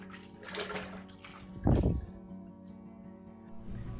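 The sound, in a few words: water being mixed with soap for washing yarn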